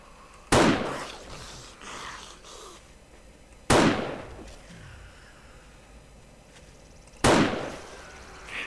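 Three loud, sharp sniper rifle shots from the 7 Days To Die video game, each a single crack with a decaying echo, spaced about three seconds apart over quiet ambience.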